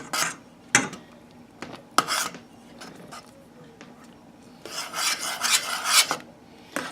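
A spoon scrapes and rubs around a pot of arroz con leche, rice pudding with cranberries, in rasping strokes of uneven rhythm, close and moderately loud, with a denser run of scraping near the end.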